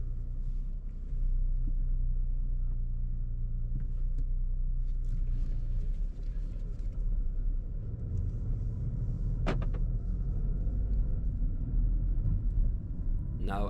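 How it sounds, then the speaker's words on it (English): An Audi A1 Sportback 25 TFSI idles after a key start, giving a steady low rumble with one brief click partway through. Faint and even, heard from inside the car. "let's start this car up"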